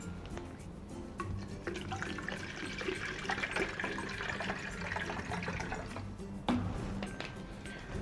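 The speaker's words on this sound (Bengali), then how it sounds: "আর আপনার হিউমিডিফায়ারে পানি দিতে হবে।" Water pours steadily for several seconds into the roughly 1.5-litre plastic tank of a double-nozzle humidifier, a continuous splashing fill at close range that ends with a brief knock.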